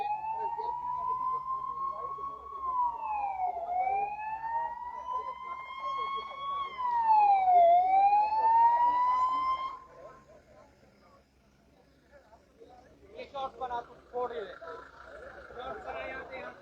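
A wailing ambulance siren rises and falls for several seconds, fairly close, then fades, leaving faint background noise and a few brief voice-like sounds.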